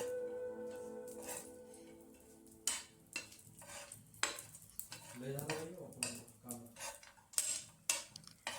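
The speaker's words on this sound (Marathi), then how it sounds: "खोबरं पण सेम आपण असं तांबड्या रंगाने भाजून घेणार आहोत" Dry coconut roasting in a pan for a soybean masala gravy, with a spoon scraping and stirring in repeated strokes over a soft, steady sizzle; close and fairly quiet, no talking.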